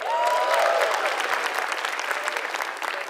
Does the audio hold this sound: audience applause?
yes